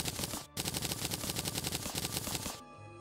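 Rapid item crafting in Terraria, with gems and jewels being made, produces a fast, evenly spaced stream of sharp clicking ticks like machine-gun fire, briefly broken once and then stopping abruptly.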